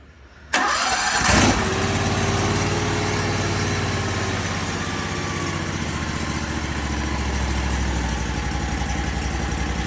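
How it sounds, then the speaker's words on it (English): An AGT KTT23 snow blower engine without an airbox barks to life and settles into a steady, loud idle that shifts slightly in pitch as the throttle is adjusted, running close and continuous with no talk. "Then you can fine adjust your idle, faster, slower."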